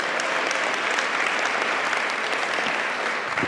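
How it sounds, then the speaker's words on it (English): At a community cabinet event, an audience gives event team members dense, sustained applause. The clapping holds at a steady, full level for the whole stretch, with no break and no voices standing out. "Would you give our team members a round of applause?"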